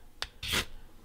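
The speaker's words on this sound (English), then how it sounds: "that awl is fantastic for striking a fire steel" A bushcraft pocket knife's awl scrapes a fire steel in two quick rasping strokes, a short one followed by a longer, louder scrape, close and alone with no voices.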